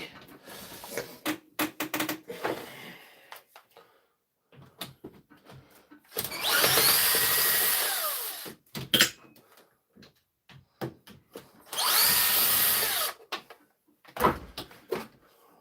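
A power screwdriver runs in two sustained bursts of whirring, each about two seconds long, loud and close. Scattered clicks and knocks from handling tools come between the bursts.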